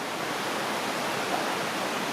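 Sweden's highest waterfall roars as a dense, constant rush of falling water, loud and steady throughout with no voices.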